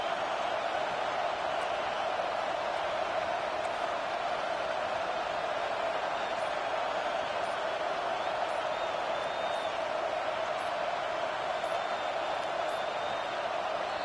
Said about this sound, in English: listen to this crowd noise